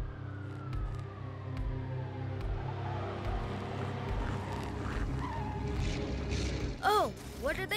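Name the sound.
cartoon cars revving engines and racing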